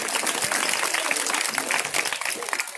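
An audience at a Bhagwat katha in New Ashok Nagar, Noida, breaks into sustained, dense clapping that stays loud and close from start to finish, with a few voices faintly underneath.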